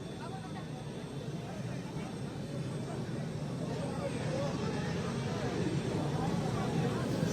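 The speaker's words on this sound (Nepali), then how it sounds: "मैदानमै आज हेलिकप्टर ल्यान्ड हुन पुगेको छ।" Helicopter landing on a football ground during a semifinal match, a broad steady rotor and engine roar building slightly louder and closer, with crowd noise mixed underneath.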